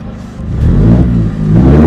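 A small, very cheap car's engine revs hard, a loud close low rumble that climbs and swells in two pushes of the throttle, with no talking over it.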